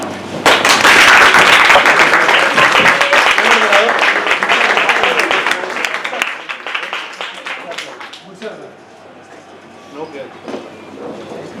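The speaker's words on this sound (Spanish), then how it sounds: "Un fuerte aplauso." An audience at a popular-science talk on computational chemistry breaks into loud, close applause that holds for several seconds, then fades into scattered claps and quiet room noise as people settle and speak.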